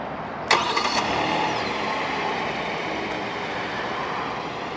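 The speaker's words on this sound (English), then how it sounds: "we're going to press and hold the remote start button on the other side of the key fob" A 2023 Kia Telluride SX AWD X-Line starts by key fob remote: a sharp cranking burst catches, then settles into a steady, even idle rumble that carries on alone.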